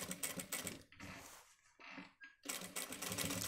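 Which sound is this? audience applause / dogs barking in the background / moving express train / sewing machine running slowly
sewing machine running slowly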